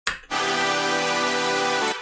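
Combined synth leads and a saw stack for melodic bass music blast in as a wide, buzzing sustained chord, loud and dense, cutting off abruptly after nearly two seconds.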